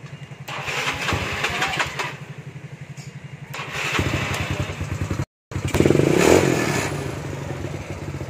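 A motorcycle engine cranks with rapid clattering pulses, cuts out briefly, then catches and runs loudly with a rhythmic idle close by.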